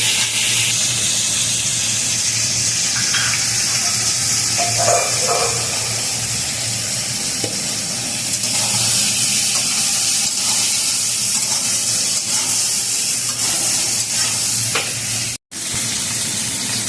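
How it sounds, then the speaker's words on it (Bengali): Eggplant sizzles steadily in hot oil with salt and turmeric, a loud, dense, continuous frying hiss with occasional stirring clicks, close up and without speech. "দিয়ে বেগুনটাকে আমি ভালো করে লাল লাল করে ভেজে তুলবো"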